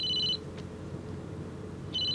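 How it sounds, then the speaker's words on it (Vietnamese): Telephone ringing with a bright electronic double-tone ring, one burst at the start and another at the end, separated by a low room hum in a quiet interior. "Sao hôm nay điện thoại của bà reo hoài vậy?"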